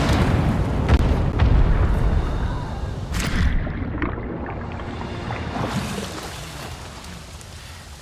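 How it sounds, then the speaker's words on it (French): A video game explosion during a prison escape, a loud rumbling blast that churns on and slowly fades and thins out over several seconds, with no clear talk over it. "Ah oui, belle explosion"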